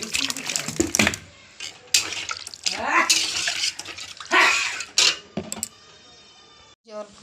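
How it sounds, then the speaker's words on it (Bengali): Water splashes and hisses into a pan of fried spices for fish curry, in bursts of pouring and sizzling with clinks of a utensil, loud and close, with faint talk. "কষানো হয়ে গেল, এবার আমি জল দেব।"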